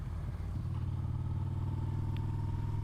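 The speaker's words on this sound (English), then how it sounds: "The last ride of my 2017 Yamaha Bolt." A 2017 Yamaha Bolt motorcycle rumbles with a steady, close low engine drone while being ridden, holding an even pulsing note throughout with no talking.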